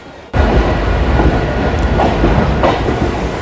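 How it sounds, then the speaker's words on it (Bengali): A train pulls out of Naihati Junction station, its loud, close rumble starting abruptly and then rolling on steadily with rhythmic wheel clatter and occasional soft squeals. "আমাদের ট্রেন ছেড়ে দিল নৈহাটি জাংশন স্টেশন থেকে"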